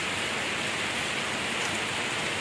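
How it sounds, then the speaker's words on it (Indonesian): Heavy rain pours steadily as a dense, even hiss, constant and fairly close throughout, with no voices. "Masih hujan nih."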